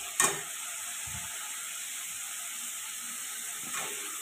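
Masala spices frying in oil for a fish curry, a soft steady sizzle and hiss with a couple of faint stirring knocks, fairly quiet and with no talking.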